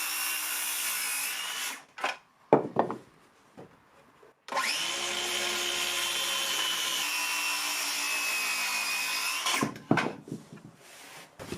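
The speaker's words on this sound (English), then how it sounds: "so I'm just going to cut a couple joists already." A power tool cuts through wooden ceiling joists during a home renovation, with a long sustained whining run preceded and followed by short bursts of cutting, loud and close.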